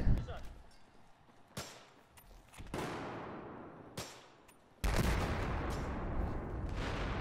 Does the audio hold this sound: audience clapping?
no